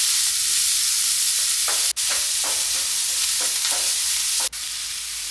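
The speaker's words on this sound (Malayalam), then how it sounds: "പിന്നെ ഇതാ പാത്രത്തിൽ വെളിച്ചെണ്ണ പാർന്ന് ചൂടായ ശേഷം നമ്മൾ ഉള്ളിയും പച്ചമുളകും അരിഞ്ഞത് അതൊന്ന് നന്നാക്കി വഴറ്റിയെടുക്കാം" Chopped onions and green chilies sautéing in hot coconut oil, a steady loud sizzle with repeated soft scraping strokes of a spoon and two sharp clicks, no voices.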